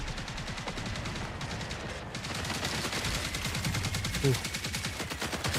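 Rapid automatic gunfire in a video game rattles continuously throughout in dense bursts, loud and close, with a brief exclamation from a player over it.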